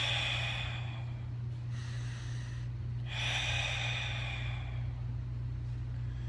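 A person demonstrates a meditation breathing technique, with soft, close breaths and airy inhales and exhales in slow cycles, over a steady low hum.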